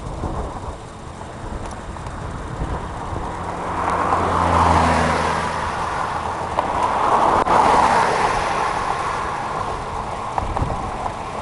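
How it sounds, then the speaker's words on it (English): A car approaching and passing a cyclist on a hilly road during a bicycle ride, its tire and engine rumble swelling midway then fading, heard over steady wind noise. "Or the car is coming."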